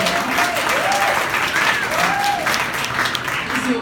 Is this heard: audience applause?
yes